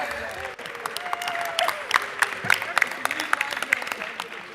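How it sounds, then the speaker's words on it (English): A legislative chamber full of people claps steadily, a dense patter of applause echoing slightly, with a few murmuring voices underneath. "give us a round of applause for our birthdays outside of the legislative session"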